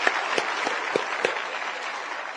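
Brief burst of audience applause at a convention welcoming first-time newcomers, moderately loud, steady clapping from a gathered crowd with a few sharper individual claps.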